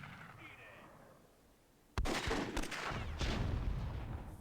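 Grenade blasts in the World War II scenario of the strategy game Myth II: Soulblighter: a loud sudden burst, then a run of sharp overlapping explosions and crackling debris, under quiet talk.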